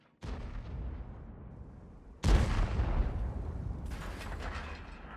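Heavy tank gun blasts in World of Tanks around a Jagdpanzer E100: two loud booming shots a couple of seconds apart, each followed by a long rumbling decay, with a sharper crack near the end.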